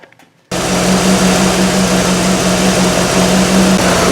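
A Chevrolet IROC-Z engine idles at full operating temperature after break-in, a loud steady drone with a constant low hum that cuts in abruptly after a brief quiet moment and holds unchanged throughout.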